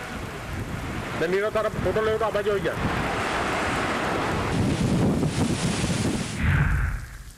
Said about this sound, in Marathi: तर मुंबईमध्ये समुद्राला उधाण आलंय।